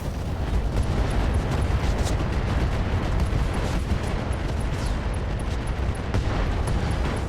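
Mech weapons firing a full salvo in the RogueTech battle game, producing a dense continuous roar of overlapping booms and blasts with loud rumbling low end and scattered sharper cracks.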